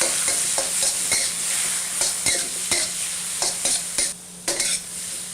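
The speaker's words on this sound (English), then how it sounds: "we'll add our marinated pork and the rest of that scrambled egg. Give it a quick stir fry." Marinated pork and scrambled egg stir-fry in a hot wok for restaurant-style pork fried rice, a loud continuous sizzle punctuated by repeated sharp spatula scrapes and clacks, close up with no talk.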